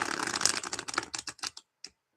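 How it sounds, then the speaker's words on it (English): Tarot cards shuffled by hand, a quick run of crisp riffling flutters that thins out into a few separate snaps and then stops, close and fairly quiet. "That was a nice shuffle."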